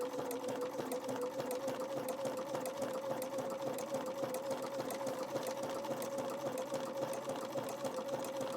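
A sewing machine runs steadily as it zigzag stitches around the edge of an applique on a Christmas truck quilt project, with a continuous close hum and rapid needle rhythm and no break throughout.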